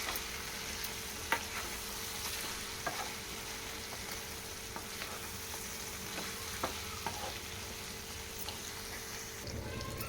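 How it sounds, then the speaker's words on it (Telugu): Steady sizzling of chicken curry frying in a pan as coriander powder is stirred in, with a few sharp scrape clicks from the spoon over the constant crackle; no voices. "వన్ టీ స్పూన్ ధనియాల పొడి వేసుకొని కలుపుకోవాలి"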